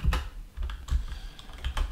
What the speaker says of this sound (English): We can change it by just typing async